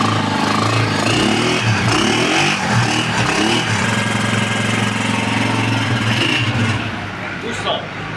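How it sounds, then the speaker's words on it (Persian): A motorcycle engine being diagnosed for a no-start fault runs loudly and steadily close by after firing up, with a rough, knocking idle and voices heard over it. "ببین برق آب، اصلا موتور روشن شد."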